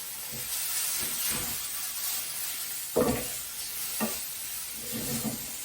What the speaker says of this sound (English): I'm going to add some garlic that I've minced up already. And I don't want that to burn, so I'm just going to let that cook